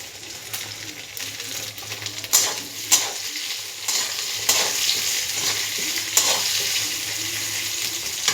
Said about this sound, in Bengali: পেঁয়াজগুলো আমার ভাজা হয়ে গেছে, এবার আলুগুলো তুলে দেবো।